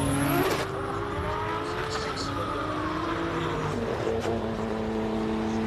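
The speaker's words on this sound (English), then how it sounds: "That is Franco Scribante in the outrageously looking Nissan GTR. Let's see what it can do" Nissan GT-R race car climbing a hill-climb course during qualifying, its engine note rising and shifting through gears at a distance, heard beneath a commentator's voice.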